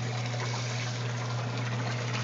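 A sump pump moving a little over 3,000 gallons an hour in a 470-gallon cichlid aquarium setup runs with a steady low electrical hum beneath quiet, constant rushing and trickling water.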